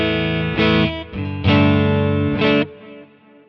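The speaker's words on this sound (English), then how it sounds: "Just a nice kind of warm Fender-y kind of tone." Electric guitar with a warm, clean Fender-style tone through an amp modeler and pedal, a few sustained chords strummed and left ringing, close and alone.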